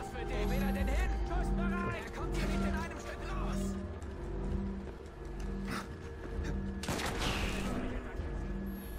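Rapid bursts of enemy gunfire in Assassin's Creed Syndicate crackle through the scene, several volleys layered under someone talking over them.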